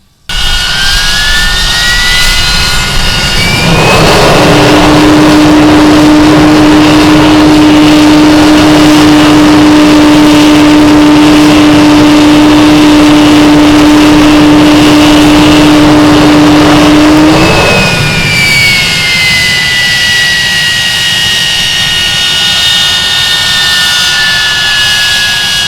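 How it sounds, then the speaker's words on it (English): Avro Vulcan XH558 running a Rolls-Royce Olympus jet engine at full power: a loud, steady roar that builds up, holds with a strong whine for around thirteen seconds, then eases back to a lower idle. "Once the 4 Rolls-Royce Olympus engines sprung to life, we moved towards the front of the aircraft and 2 full power runs on engine 1 were performed."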